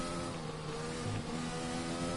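A Formula 1 car engine in a video game, at Monaco, drones steadily at a low volume, a constant buzzing whine that sounds thin and a little distant.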